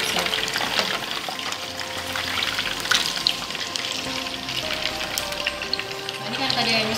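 Soto Medan broth with thick coconut milk simmering in a pot while being stirred, a steady close bubbling hiss with occasional scraping throughout.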